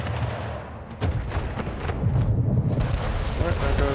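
Naval gunfire and explosions rumble as a gunboat is destroyed in Anno 1800, dense booming battle noise building steadily and mixed with speech.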